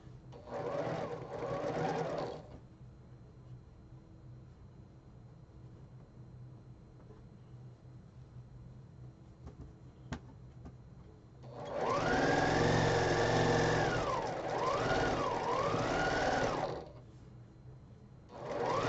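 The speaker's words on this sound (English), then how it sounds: "So all we have to do now is sew this guy on and we're good to go." A sewing machine stitches fabric in a sewing studio in two bursts, one short and one longer. Its rapid, steady mechanical whir is loud and close, and it wavers slightly in speed, with quiet room noise between the bursts.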